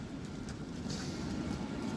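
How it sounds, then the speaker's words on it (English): A tram passing at Nottingham, a steady low rumble and rolling noise sustained throughout with faint higher rail squeal, fairly loud and continuous, no talk. "Oh, and then the tram, because why not?"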